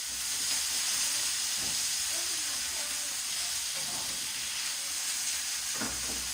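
Peppers sizzle and hiss steadily in a hot pan while being cooked for spicy Egyptian Alexandrian liver, a constant bright frying hiss with a few faint clinks and stirring sounds.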